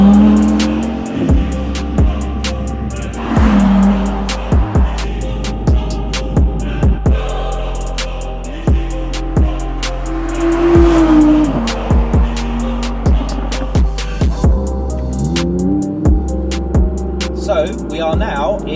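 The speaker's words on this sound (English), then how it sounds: "So we are now in the R8 RWD, or rear-wheel drive, which is the S-Tronic gearbox." A 2020 Audi R8 rear-wheel-drive sports car with an S-Tronic dual-clutch gearbox drives hard, its engine droning and surging through repeated gear changes, with sharp clicks and revs rising and falling throughout.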